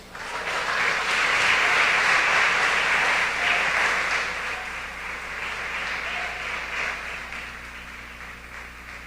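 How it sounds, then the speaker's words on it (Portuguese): A church congregation applauds during a sermon, sustained dense clapping from a large crowd that swells and slowly tapers over several seconds, loud and fairly close with no voices over it. "Eu acho que vale um aplauso."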